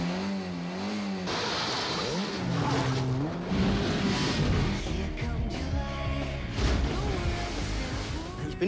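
A car engine revs and accelerates with shifting pitch, tires squealing at moments, loud and close, with shouting voices mixed in.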